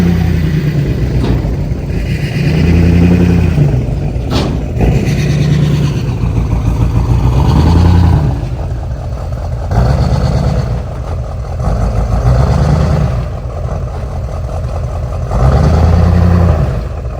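A Duramax diesel pickup truck with oil blowing out of the exhaust rumbles steadily nearby, its deep engine note swelling and easing in slow, repeated revs over a constant low drone.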